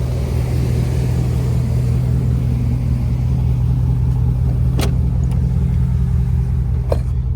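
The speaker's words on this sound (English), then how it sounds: "what I was doing was just holding the brake and cycling it into gears, letting it hold there" A 2011 Chevrolet Silverado idles steadily with a low, constant rumble while its transmission is cycled through the gears with the brake held, brief clunks as gears engage.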